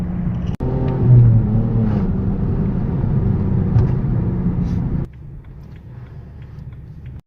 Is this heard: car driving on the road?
yes